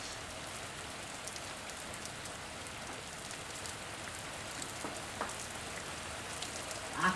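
Steady rain falls in a soft, even hiss of countless drops, faint and continuous without pause, with a slightly louder tap right at the end.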